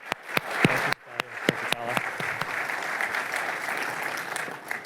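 Audience applause fills a conference hall after a fireside chat on Microsoft data security, a few sharp claps at first swelling into steady, dense clapping that carries on throughout.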